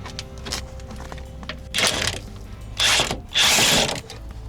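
A DeWalt cordless drill spins out 10mm bolts on a Toyota Century during an oil change, three short whirring bursts separated by pauses, close and fairly loud over faint background noise.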